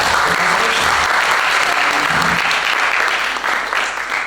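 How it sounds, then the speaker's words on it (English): Conference audience at an academic gathering applauding the speakers after closing remarks, a loud, dense, steady wash of clapping that holds throughout and thins slightly near the end. "Please applause for this"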